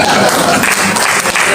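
A church congregation applauds during a sermon, giving a brief burst of dense, loud clapping from many hands that fills the room without any talking over it.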